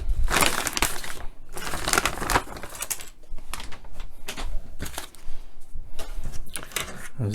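Small screws and plastic model parts for a Shelby Cobra 427 SC kit being pulled from a rustling plastic bag, close crinkling and crunching bursts with rattling clicks throughout.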